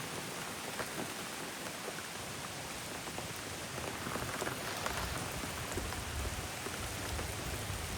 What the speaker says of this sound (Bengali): 30 তারিখ বিকালবেলা থেকে বৃষ্টি শুরু হয়েছে প্রচণ্ড বেগে